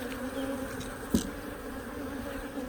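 Honeybees buzz softly around an open nucleus hive during installation, a steady faint drone with one brief louder bump partway through.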